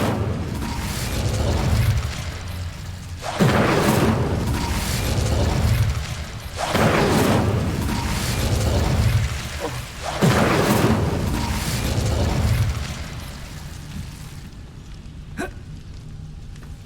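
Incendio fire spell cast in the Hogwarts Legacy video game: a roaring, crackling flame rush sustained loudly for many seconds, punctuated by four heavy whooshing bursts, then tailing into a quieter crackle.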